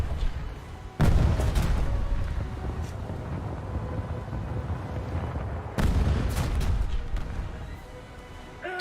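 Naval guns in a video game firing at the player's boat, two heavy booming impacts roughly five seconds apart over a constant rumble of engine and sea noise.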